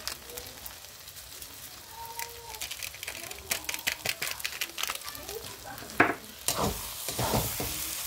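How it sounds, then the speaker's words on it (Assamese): Vegetables frying in a pan are stirred together with Maggi masala, soft scraping and sizzling at first under a speaking voice, then louder crackling stirs toward the end. "মেগী মছলাখিনি মই ভালকৈ মিক্স কৰি লম সবজিখিনিৰ লগত"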